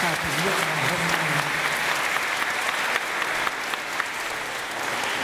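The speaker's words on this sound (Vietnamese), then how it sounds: "chúng ta trao chúc cho nhau một tràng pháo tay để bắt đầu đêm thử nghiệm ngày hôm nay" Audience applause at a 2016 Christmas Eve night program in a church hall, a dense sustained clapping that fills the whole stretch at steady loudness, with a faint voice briefly audible early on.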